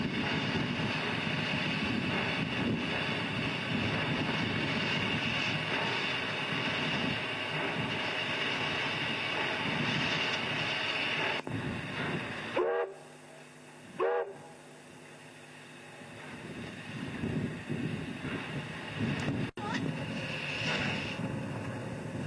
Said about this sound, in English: For the first time, one of our steam engines moves under its own steam in Glenreagh Yard.